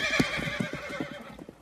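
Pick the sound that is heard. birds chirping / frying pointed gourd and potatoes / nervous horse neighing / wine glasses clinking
nervous horse neighing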